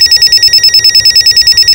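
A telephone bell rings in a steady rapid repeating pattern, loud and close, with no voices over it.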